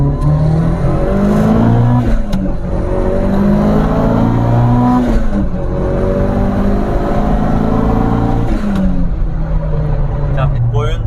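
A Mitsubishi Lancer Evolution VI Tommi Makinen's 280-horsepower 2.0 4G63 engine revs hard and climbs through gears, rising and dropping in pitch loudly throughout, with someone speaking over it.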